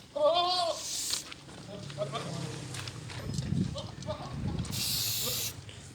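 Goat bleats ring out at a crowded livestock sale, the first loud and near, with further calls scattered under voices and market chatter.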